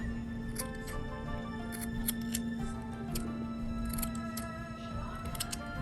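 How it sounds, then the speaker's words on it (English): Sharp scissors snip yarn for a pom-pom decoration in a run of quick, crisp cuts, some spaced apart and some in short clusters, over a faint steady background hum. "it feels so good when you cut it"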